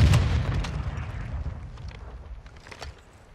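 A grenade goes off in Call of Duty: Modern Warfare II with a heavy, close boom at the start, followed by a rumbling tail and scattered debris that fades over about three seconds.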